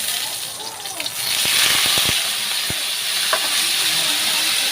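Shrimp dropped into a pan of garlic and onion already sautéing to a reddish color, giving a steady close sizzle and hiss that rises as they land, with a few sharp crackles and spatters.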